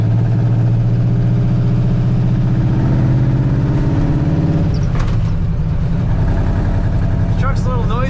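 A 1955 Ford F100 shortbox pickup with side pipes runs steadily, its low engine rumble continuous and fairly loud throughout, with a voice speaking over it and a brief higher whine near the end.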